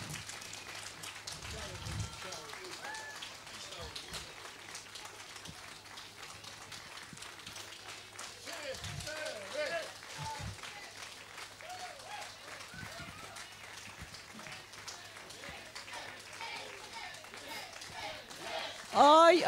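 Audience applause after a concert performance, a sustained wash of clapping from a crowd lasting throughout, with a voice speaking over it at times.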